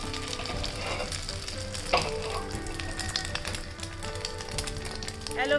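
A bread omelette fries in a pan with a constant close sizzle. Scattered taps and scrapes come from the pan, and faint background sounds run underneath.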